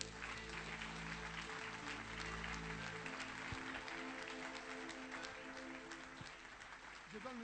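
A church congregation applauds loudly, a steady dense wash of clapping throughout, with a voice speaking over it.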